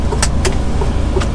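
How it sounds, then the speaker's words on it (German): Two cars passing from behind a vehicle on a road, a loud low engine and tyre rumble throughout with brief sharp whooshes as they go by, no talk. "Zwei Autos von hinten."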